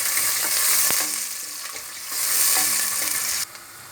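Onion and garlic fry in hot oil in a pot for Turkish ezogelin soup, a steady close sizzle broken by spoon scrapes and stirring knocks, with a brief lull before the hiss swells again.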